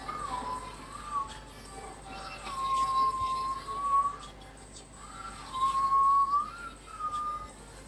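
A person whistles a few thin, wavering tones in an indoor room with steady background hum and noise, the phrases rising and falling in two separate bursts.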